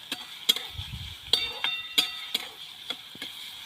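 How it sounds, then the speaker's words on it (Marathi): Chopped onions sautéed in a pan over a wood-fired village stove, a continuous bright frying hiss punctuated by regular clinks of a spatula against the pan, close and fairly loud. "आता कांदा आपल्याला गुलाबी रंग येईपर्यंत परतून घ्यायचा आहे"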